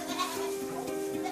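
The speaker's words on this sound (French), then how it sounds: "Sa bergerie abrite une 50aine de chèvres, des alpines chamoisées" Several Alpine chamois goats bleat in a barn housing about fifty goats, a steady near cry with overlapping voices throughout.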